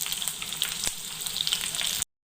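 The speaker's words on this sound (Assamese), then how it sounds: "এনেকৈ আলুখিনি ফ্ৰাই কৰি ল'ব" Potatoes fry in hot oil in a kadai with a steady, close crackling sizzle and occasional pops, cutting off abruptly near the end.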